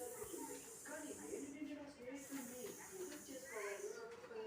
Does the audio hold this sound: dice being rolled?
no